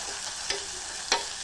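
Spice masala with ginger, garlic, tomato, onion and coriander frying in oil, a continuous sizzle with a few sharper crackling pops, no talking.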